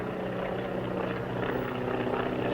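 A small propeller plane carrying two men drones steadily overhead in open western country, a continuous engine hum with no voices.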